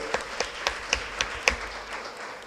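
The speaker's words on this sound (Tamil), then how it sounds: "கொஞ்சம் நல்லா சத்தமாக கைதட்டுங்க" A handful of distinct, evenly spaced claps, about six in a row, ringing out fairly loud before the sound falls away.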